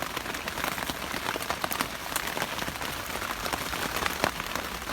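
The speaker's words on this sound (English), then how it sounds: "Sorry about the rain." Steady rain patters onto a July garden plot, a dense, even hiss of drops spread through the whole stretch, close and fairly loud, with no talking.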